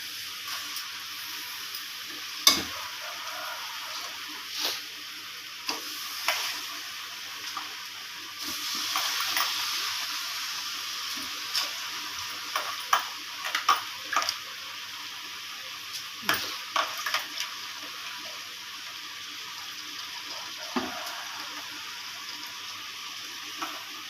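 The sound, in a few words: stirring rice into sautéed vegetables in a pot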